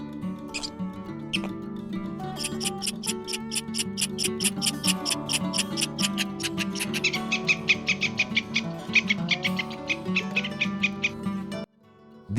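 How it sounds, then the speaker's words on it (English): Russian squirrel calls, a long series of rapid, evenly spaced chirps and clicks that stay steady and fairly close, then stop abruptly near the end. "These are the sounds the Russian squirrel makes."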